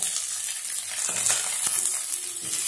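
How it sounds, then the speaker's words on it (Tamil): Curry leaves sauté in a pan over a low flame, a steady close sizzle and crackle with a few soft spatula scrapes and stirring taps, no voices. "இனியும் போட்டு நல்லா வதக்கிடலாம் லோ ஃப்ளேம்லேயே வச்சுருங்க"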